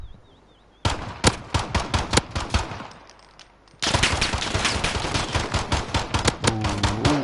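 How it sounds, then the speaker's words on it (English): Rapid automatic gunfire from a Call of Duty gunfight match, two loud, dense bursts of closely spaced shots separated by a brief lull, with no talk over them. "Rowdy just missing his shots."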